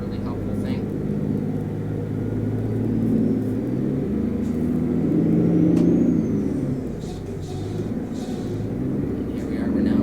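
A 2006 Sisu C600 truck cruises on a freeway in Euro Truck Simulator 2, its engine giving a steady droning hum with a gentle swell and fade, sustained throughout with no talk.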